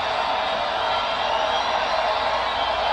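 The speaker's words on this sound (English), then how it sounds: "Crowd goes bananas as McGregor gets upright" An arena crowd at a UFC fight between McGregor and Khabib roars in a dense, sustained wash of cheering that holds steady throughout.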